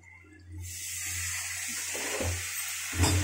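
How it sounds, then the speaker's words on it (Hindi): Water poured into a pan of frying spice masala with coriander powder while cooking, a broad steady rush and sizzle that starts after a quiet moment and continues loud to the end, no talk over it. "डाल देंगे थोड़ी देर के लिए पानी"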